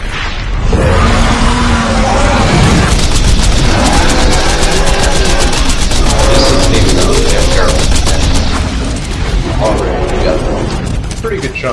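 Rapid video game gunfire during a boss fight against a large enemy, dense and continuous with booms and mechanical clatter, mixed with a music-heavy soundtrack and some speech throughout.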